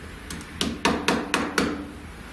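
A run of sharp knocks on a wooden table: two light taps, then five firmer, evenly spaced raps, close up.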